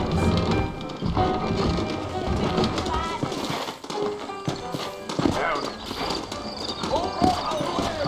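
Steady clip-clop of hooves at a trot in the video game Red Dead Redemption, beneath a dense bed of outdoor ambience and patter, with a horse briefly whinnying; continuous, moderately loud.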